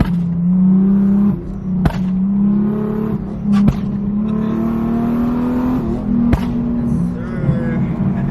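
A Honda Civic with bagged air suspension rises and falls in engine pitch through a series of revs on downshifts, loud and close, with sharp clicks and a voice speaking briefly over it.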